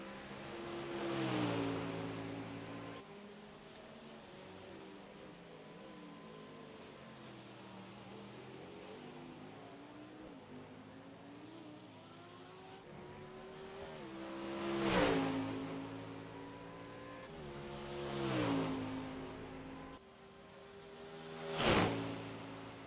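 A race car engine drones through its gears on a final lap, pitch climbing and dropping with each shift, and swells into louder revving surges near the end.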